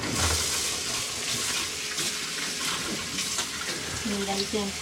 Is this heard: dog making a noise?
no